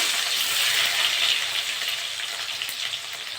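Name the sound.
onions frying in hot mustard oil in a wok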